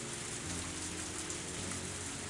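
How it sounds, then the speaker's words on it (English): Rain falling as a sound effect in the Higurashi visual novel, a faint, steady, even wash of rainfall with no distinct drops or breaks, no voices. "As the rain came down on me"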